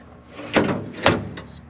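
The metal drawer of a South Bend Model 10K lathe cabinet is opened and closed in a machinery shop. Two sharp sliding clunks come about half a second apart, close and fairly loud.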